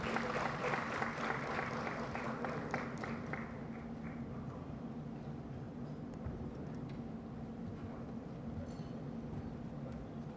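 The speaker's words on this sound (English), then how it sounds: "Ladies and gentlemen, round of applause" Conference audience at an economic growth forum applauding a session chair, a faint, distant patter of clapping that thins out after a few seconds into a low room hum with a murmur of voices.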